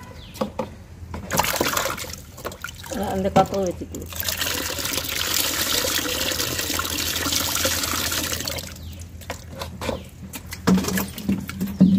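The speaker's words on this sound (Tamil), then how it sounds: "தண்ணி கொஞ்சம் ஊற்றிடலாம் லைட்டா." Water pours and trickles into a home tank holding a pet shark fish, a steady splashing stream lasting several seconds, close by, with people talking over and between the pours.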